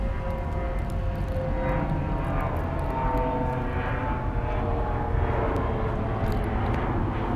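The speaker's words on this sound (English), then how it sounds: "You can hear a plane above me," An airplane passes overhead on an arrival path near a runway in a small New England city in winter, a steady, loud broadband engine roar that holds evenly throughout with no voices.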